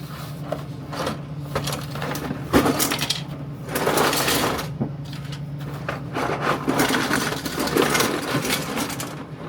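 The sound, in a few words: 3D printers printing multiboard pegboard parts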